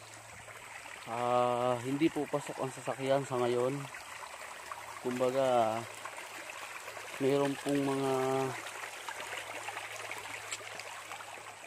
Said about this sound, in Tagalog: May ilog.